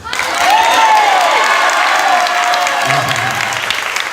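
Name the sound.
church audience clapping and cheering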